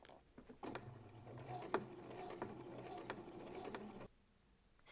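A sewing machine stitches around a lace dress seam toward a backstitch, a quiet, close mechanical whir with small ticking clicks for about three seconds before it stops.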